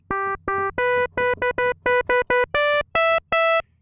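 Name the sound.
metallic bright FM synthesizer tone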